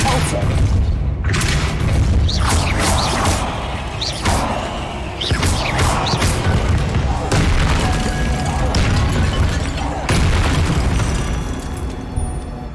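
Repeated heavy blasts from the Depulso spell in the game Hogwarts Legacy, cast during a fight with spiders: deep booming impacts in quick succession with rumbling tails, loud and close, with a voice speaking over them.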